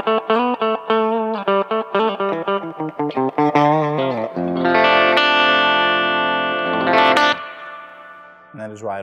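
Electric guitar played clean through a Mesa/Boogie Switch Track ABY switcher into a white Croco amp: a run of short plucked notes, then a sustained ringing chord and a few more strums, fairly loud with no talking over it.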